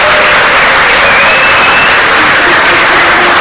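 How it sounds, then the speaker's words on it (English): Audience at a lunch event applauds loudly and steadily, a dense wash of clapping with no break. "if you guys want to give yourselves a little round of applause"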